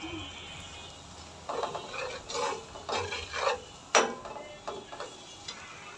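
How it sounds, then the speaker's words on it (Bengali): A spatula stirs spices, turmeric, chili powder, cumin and salt in a pan for a Bengali katla fish kalia, giving a string of close scraping strokes over a faint sizzle. "এগুলো দিয়ে আমার একটু নেড়ে চেড়ে দিতে হবে।"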